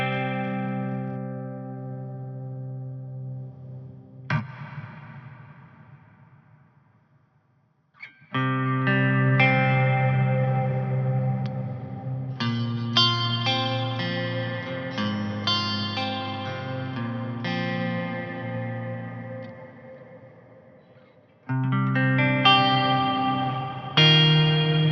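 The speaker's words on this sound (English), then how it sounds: "This is what the reverb does." An electric guitar runs through the JST ToneForge Misha Mansoor plugin with heavy reverb, playing sustained distorted chords and notes that ring out into long washy tails, with a pause near the start before the playing resumes loudly.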